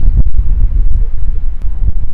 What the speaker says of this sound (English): really windy up here